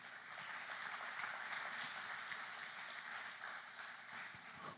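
Church congregation applauding during a sermon, a dense, even wash of many hands clapping that holds steady throughout, fairly distant and soft.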